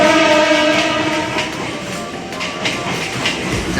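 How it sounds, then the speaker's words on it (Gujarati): A Mumbai metro train runs steadily, a loud continuous rumble with a tonal whine and faint rhythmic rail clatter, heard from inside the carriage. "મેટ્રોમાં પાછા બેસી ગયા છીએ."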